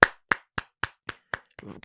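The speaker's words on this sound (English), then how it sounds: "Let me give him a clap." Seven sharp single hand claps from one nearby person, evenly spaced about a quarter second apart, with a brief shuffling rustle near the end, heard during a football podcast conversation.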